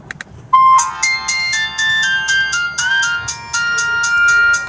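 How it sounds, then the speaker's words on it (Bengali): A Benco E11 button phone plays its ringtone, a bright electronic melody of short repeated tones that starts after a brief pause and runs loud and close to the end, with no talking. "আমি রিংটোনটা একটু চেক করব যে এই ফোনটির রিংটোন কেমন ছিল"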